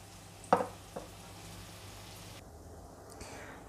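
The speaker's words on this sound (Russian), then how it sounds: "Лук у нас тем временем практически поджарился." Chopped onion fries in a pan with a steady, soft sizzle throughout, broken by a couple of clicks and clatters from utensils, close but fairly quiet.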